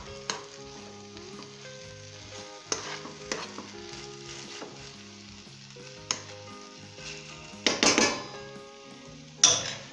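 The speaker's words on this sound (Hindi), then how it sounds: "इसे मिक्स कर लें।" Punjabi baingan masala, brinjal in spiced gravy with a pinch of garam masala, is stirred in a pan with a steady sizzle. A spoon scrapes at intervals, and a few louder clanks come near the end.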